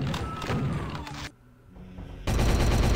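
Enemy balls in a video game fire fast crackling projectiles, a dense burst of sharp rapid shots, then a brief quieter gap, then another loud volley.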